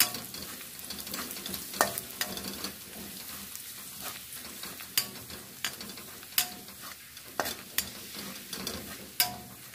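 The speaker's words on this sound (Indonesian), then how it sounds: "Kemudian saya akan masukkan bawang putihnya." Garlic frying in a pan for sambal bawang, a steady sizzle with scattered sharp clicks and scraping stirs, fairly quiet and close with no talking.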